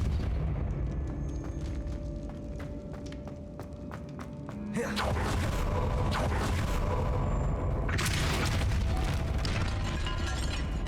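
A Depulso force spell lands in Hogwarts Legacy with a sudden loud burst about halfway through, followed by a sustained rumbling wash and a second surge near the end, over a low game ambience of mechanical tones and scattered thuds.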